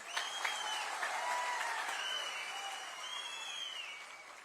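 Crowd applause at an outdoor political rally in Billawar, with people on the road and standing around the ground joining in, a dense sustained roar of clapping with faint cheers that slowly fades, with no speech over it.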